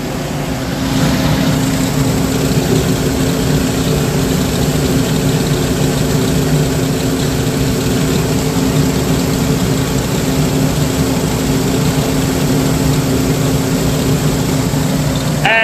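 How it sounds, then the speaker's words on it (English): The lower fan of a Sukup portable grain dryer runs steadily and loudly, with a constant droning roar and hum and no voices. "Here we have the lower fan."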